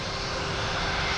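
A JetBlue Airbus A220 from Wilmington arrives at Boston Logan, heard as a brief, steady, broadband jet rush at moderate distance, with a faint tonal whine running through it.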